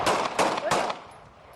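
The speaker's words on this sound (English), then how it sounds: "A man accused of burglary is very publicly shot dead in the street." Gunfire in old news footage of a public street shooting in Pakistan's Swat region: a quick burst of three or four sharp cracks in rapid succession, fairly distant and muffled, then fading away.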